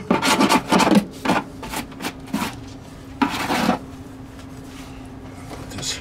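Cleaner is rubbed by hand to strip slippery silicone residue from the bottom of an RV fridge cooling unit panel, a series of short, close scrubbing strokes in irregular bursts with pauses between.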